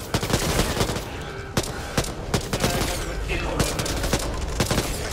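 Dense, continuous gunfire from Back 4 Blood, Act 1 Hell's Bells, with rapid overlapping shots and bursts throughout, loud and close, mixed with shouting voices.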